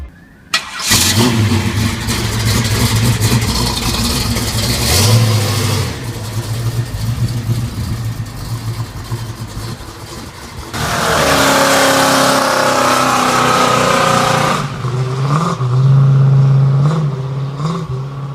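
A Pontiac Trans Am in a Need for Speed racing game revs hard, its engine climbing and dropping through several loud surges and shifts, close and continuous from start to finish, with no talking.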